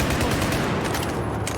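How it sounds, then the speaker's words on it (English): Rapid automatic gunfire in the Battlefield 4 campaign, loud and dense bursts crackling continuously through the short stretch with no talk. "Regular gunfire can tear down wood."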